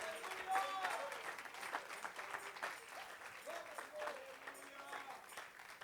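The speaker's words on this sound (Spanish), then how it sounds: "dale un fuerte aplauso al Rey" A church congregation breaks into sustained applause during a service, a dense, steady clapping that fills the room alongside voices.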